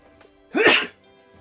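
A single sharp, close sneeze bursts out loudly after near silence, with faint background sound around it.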